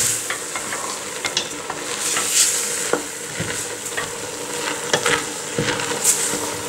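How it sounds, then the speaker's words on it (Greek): Soy mince sauce for a pasta dish being stirred in a sizzling pan, repeated close scrapes and clacks of the spoon over a steady frying hiss. "Ανακατεύουμε."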